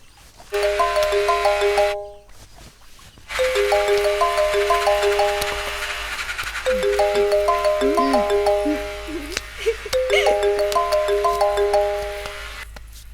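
A phone ringtone plays a repeating melodic pattern in several bursts with short gaps, loud and close, with faint background noise.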